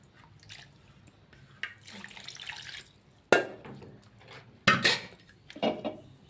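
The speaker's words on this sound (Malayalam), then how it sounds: "ഇനി ഇതിനെ നന്നായിട്ട് മിക്സ് ചെയ്ത് കൊടുക്കാം." Clanking of a pot and utensils while fish curry ingredients and mango are stirred together, with soft scraping and clatter and three sharper knocks near the end, close by and alone.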